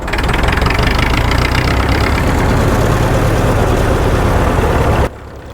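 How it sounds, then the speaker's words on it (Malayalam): A road roller's engine runs loudly and steadily at close range, a dense rumbling drone that cuts off abruptly near the end, leaving only a faint low hum. "ഈ റോഡ് റോളർ ഇതുപോലെ റോഡിൽ കൂടെ ഓടി പോകുമ്പോൾ"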